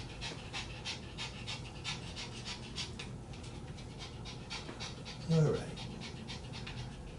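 A female dog pants in quick, steady breaths close by, the rhythmic huffing running throughout while someone speaks briefly over it.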